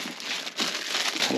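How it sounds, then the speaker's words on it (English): Plastic bag crinkles loudly and close up as it is pulled off a portable power station for a motorhome, a brief rustling burst. "pull off the plastic bag."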